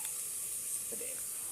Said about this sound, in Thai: ขั่วใส่ปลาแดกมันหอมมาเลย